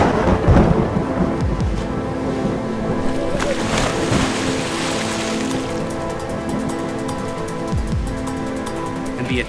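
Storm at sea around a drifting boat, with heavy rain and rumbling thunder forming a loud, continuous wash and a few louder crashes, under dramatic music in an animated children's story.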